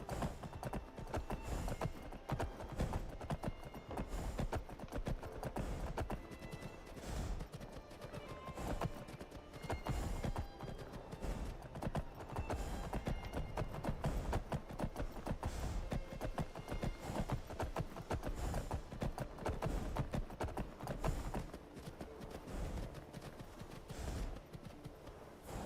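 Horse hooves clip-clop steadily in Skyrim, a continuous rhythmic trot under dense game music and ambient sound, with an occasional whinny.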